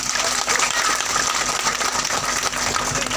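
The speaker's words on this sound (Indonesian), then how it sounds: "tepuk tangan." A crowd at a village campaign rally claps, a dense, fairly loud wash of applause with some scattered individual claps and faint background noise throughout.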